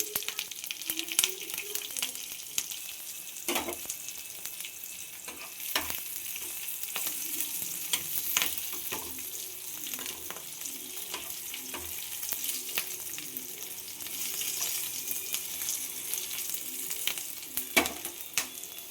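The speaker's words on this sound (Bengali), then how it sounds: "এবার সর্ষেটা ফুটছে, আমি এর মধ্যে দিয়ে দিলাম কিছুটা কাঁচা লঙ্কা আর কারি পাতা" Mustard seeds spluttering in hot oil with green chillies and curry leaves, a steady faint crackle broken by sharp pops and scraping stirs throughout.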